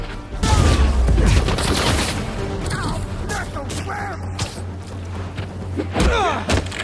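Gunfire in the Spider-Man 2 video game on its hardest difficulty, with bursts of shots and thumping impacts mixed with game effects and voices over the action.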